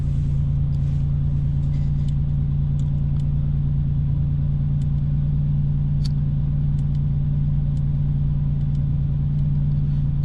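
A 1987 Buick Grand National engine idles steadily after starting, a loud, constant low rumble close by with no voices, holding a level drone throughout.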